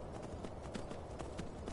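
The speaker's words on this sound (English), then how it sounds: "Maybe I should heal the horse." A horse's hooves clip-clop in the Skyrim video game, a steady rapid trot of muffled thuds that runs continuously, fairly quiet, with no talking over it.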